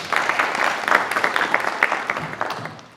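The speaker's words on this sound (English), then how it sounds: "A clap for her, she comes." Applause from a crowd at a graduation ceremony as the head of sales and partnerships comes up to speak, a steady burst of many hands clapping at close range that fades toward the end.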